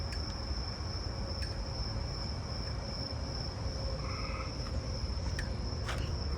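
A Columbian trig cricket trills nearby, a thin, steady high-pitched tone running continuously over a dense backdrop of other insects and a low distant rumble, with a few faint ticks.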